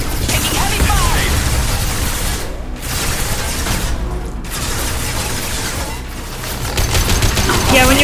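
Gunfire in the video game Mass Effect 2, a dense sustained barrage of automatic shots and bursts that stays loud and close for several seconds, broken by two brief lulls.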